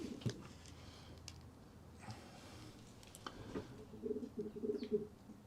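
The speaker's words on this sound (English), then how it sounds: "There are the young pigeons." Young pigeons in a small loft section, soft cooing and faint chirps rising toward the end over a low room hum, near and fairly quiet.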